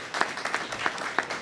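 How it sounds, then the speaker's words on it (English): Audience applause at a governor's food assistance announcement, a moderate, steady clapping with a few sharper individual claps popping out, heard from some distance in a large room. "And I will pause so you can applaud"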